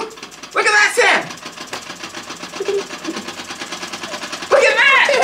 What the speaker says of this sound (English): Hey, that's a steam engine.